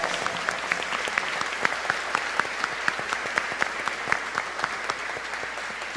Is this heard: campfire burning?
no